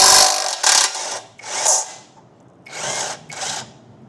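Several short bursts from a power tool, likely an impact driver or drill, loosening 12 mm and 13 mm nuts on the front wheel of a Royal Enfield Classic 500 motorcycle; four to five separate whirring spurts with brief pauses between them, close and fairly loud.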